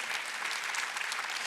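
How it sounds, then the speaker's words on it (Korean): A church congregation at a Sunday worship service claps together, a dense steady burst of applause from many hands filling the room, slightly distant. "박수 한번 쳐보세요"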